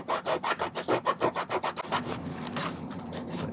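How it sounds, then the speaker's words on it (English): A metal hand file rasps across a silver ring part on a jeweler's bench, about a dozen quick, even back-and-forth strokes, close and loud, followed by a softer steady scraping. "You can use your file for that too."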